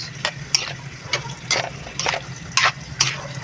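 Water splashes into a cooking pan of squid adobo with lemongrass in several separate bursts, with short gushes and clatters standing out over a low steady hum.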